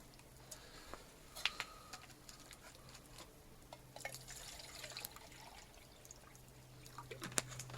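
Water being poured at a wild camp in Scotland while cooking over a campfire outdoors: a faint, quiet trickle with scattered light drips and ticks, heard alone at a distance against a low background hum.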